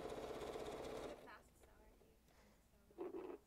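Sewing machine stitching a cloth napkin, a steady mechanical hum running for about a second near the start, followed by quieter handling sounds and a brief second burst of stitching.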